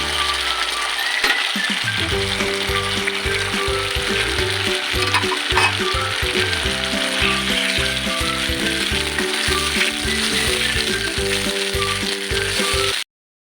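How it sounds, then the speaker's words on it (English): Macaroni is stirred into a hot, sizzling pan with cheese and coconut oil, giving a loud continuous fry under repeated scraping and stirring strokes, with no talking. "And the last step, add the macaroni and mix."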